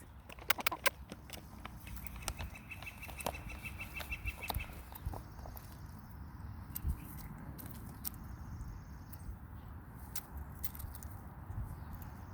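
Chickens forage on pasture, with faint scattered clucks and pecking sounds over a soft outdoor background, and a few sharper calls near the start.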